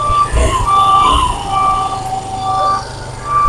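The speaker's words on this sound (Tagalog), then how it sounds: "Mandar yung motor." A Kymco Agility scooter with a weak, low battery runs after a kick start, its engine a steady low rumble that stays loud throughout, with a thin whine riding above it.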